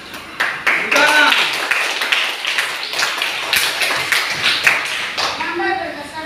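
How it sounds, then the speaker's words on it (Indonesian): A classroom group claps hands in a burst of quick, loud, overlapping claps lasting several seconds, with voices mixed in. "Tepuk tangan."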